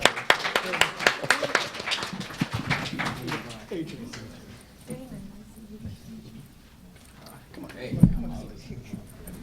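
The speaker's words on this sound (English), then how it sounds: "give these people a nice round of applause" Audience applause welcoming a panel at the Black Blockchain Summit 2019, a burst of claps at the start that thins out as a speaker begins talking over the fading clapping.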